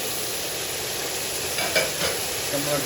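Tomatoes go into a pan of frying garlic paste masala for mutton aloo gosht, giving a steady sizzle with brief stirring scrapes and a slight rise in crackle.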